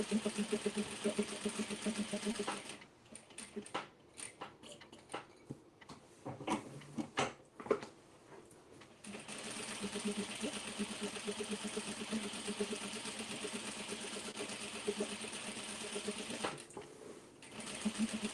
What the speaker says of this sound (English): let's go ahead and sew our lining together